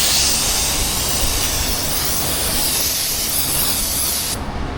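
Brake cleaner sprayed in one steady, loud hiss onto the axle of a Ford 2.7 EcoBoost with a blown axle seal, running unbroken for several seconds at close range and cutting off abruptly at the end.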